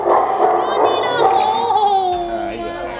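Dogs at an animal shelter bark, yip and whimper in a busy indoor kennel, overlapping into a steady din with a high whining howl, while a person talks over them.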